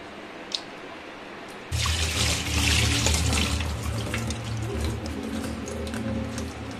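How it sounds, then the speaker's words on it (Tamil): Water runs and splashes steadily from a tap for several seconds after a brief knock, rinsing and draining washed potato slices in a sink. "ஒரு நல்ல தண்ணியில் இதை வாஷ் பண்ணிட்டு இப்போ மறுபடியும் வடிகட்டிக்கலாம்"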